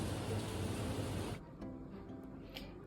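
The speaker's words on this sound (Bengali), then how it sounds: "এখন বৃষ্টি হচ্ছে পুরো পুজোটা মনে হচ্ছে ভাসাবে বৃষ্টি বৃষ্টি বৃষ্টি" Steady rain falls outdoors in Kolkata, a dense hiss that cuts off sharply partway through and leaves a quieter, fainter patter behind.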